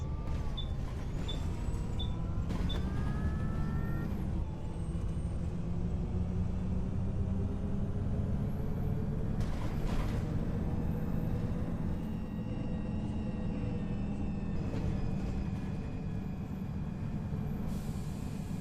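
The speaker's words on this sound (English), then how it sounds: "Yeah, I think with this bus, when we hit 30 miles an hour, we started getting a bit bouncy." A Volvo B7L Wright Pulsar bus in the OMSI 2 simulator drives along with a steady low engine and road drone, punctuated by short chiming beeps early on and a few brief clunks and rattles.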